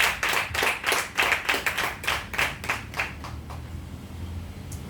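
A church congregation clapping together in a quick, steady rhythm of sharp, loud claps that gradually thin out and fade toward the end, with no voices.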